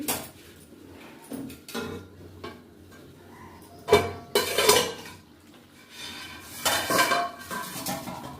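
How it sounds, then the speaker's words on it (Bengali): Metal lid lifted off a pot of Bengali chicken curry (chicken kosha) simmering in water, with sharp clattering clanks of lid and cookware among quieter scrapes and light kitchen handling noise, no voices. "খুলে দেখি সেদ্ধ হয়েছে কি"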